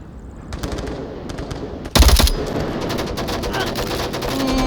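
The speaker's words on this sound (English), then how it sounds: "Sarcasm for some reason shooting up onto Southwatch, giving away his position" Gunfire in the Onward VR video game: rapid automatic bursts and scattered single shots with one loud, close blast in the middle, over continuous game ambience.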